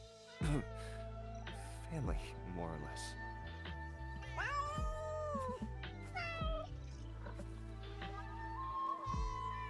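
Cats meow and caterwaul repeatedly with long, wavering, rising and falling cries, close and clear, while people talk underneath.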